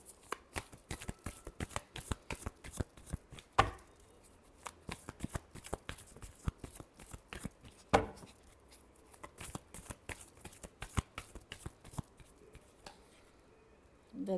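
A tarot deck shuffled by hand, a rapid run of crisp riffling card flicks repeating steadily, close and fairly quiet, with no talking.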